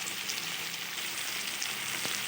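Cauliflower, beans and carrots frying in ghee in a pan give off a steady, close sizzle with a soft crackle, a faint stirring knock near the end, no talking.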